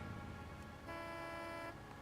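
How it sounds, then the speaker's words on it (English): A car horn blares in a video game, one sustained honk of about a second with steady tonal bands, sounding over a constant hum of background game noise. "So the car has a horn now?"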